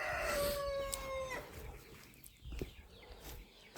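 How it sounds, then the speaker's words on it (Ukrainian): A chicken squawks loudly for about a second, followed by quieter scattered clucks and rustling from nearby fowl. "Вредні кури."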